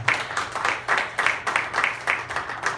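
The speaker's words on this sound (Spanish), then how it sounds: "Denle un aplauso a Jesús" Rhythmic, evenly paced clapping from a church congregation applauding Jesus during a Spanish-language worship service, steady beats repeating throughout, moderately close.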